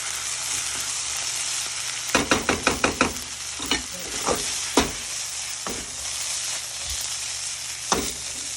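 Bamboo shoots fry in a pan with a constant sizzle, while a quick run of sharp spatula scrapes and taps stirs them, followed by scattered single knocks, close up and without talk.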